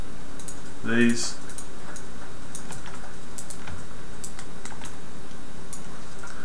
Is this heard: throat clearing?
no